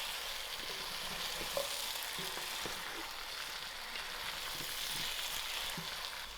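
Mixed vegetable curry with madumbes sizzles steadily in a pan while it is stirred, with soft scraping taps over a constant close frying hiss.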